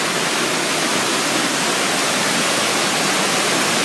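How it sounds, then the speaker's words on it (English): A river in the Lake District rushes past just outside a place to stay, a steady, full broadband roar of flowing water that holds constant and close throughout, with no voices. "So the river here just flows past outside where we're staying."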